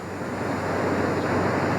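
A steady wash of wind and churning water, the storm sound effect of a radio drama, rolls on at an even, fairly loud level with no voices over it.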